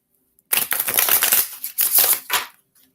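Tarot cards being shuffled close by in two quick riffling bursts of papery crackle, separated by a short pause.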